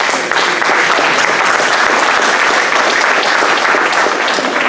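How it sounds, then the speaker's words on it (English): An audience at a political gathering about splitting New York State gives a loud, sustained round of applause, dense, close and continuous throughout. "let's just give Dave and Rob a round of applause"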